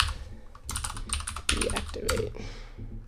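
Rapid typing on a computer keyboard while naming a comment group in a game-engine editor, several bursts of close, crisp key clicks with short pauses between, no voices.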